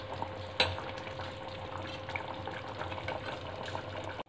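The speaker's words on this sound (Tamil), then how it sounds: "இப்போ ஒரு 5 நிமிஷம் கருவாடோட கொதிக்கட்டும் குழம்பு" Dried-fish curry (karuvattu kulambu) bubbles softly in a pot, a low, steady simmering fizz with one sharp clink near the start and a light scrape at the end, fairly faint and without talk.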